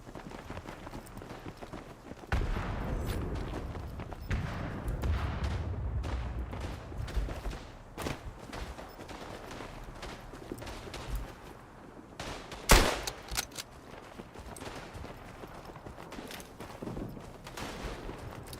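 Rapid machine gun fire in the video game Battlefield 1 on the Tannenberg map, in irregular bursts mixed with distant battlefield shots and a sharp loud crack near the end.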